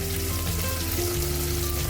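Green chillies and tomato fry for okra fry. A constant, moderately loud crackle runs evenly throughout like light rain, with no speech.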